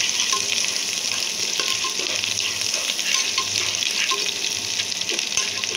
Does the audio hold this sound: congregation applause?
no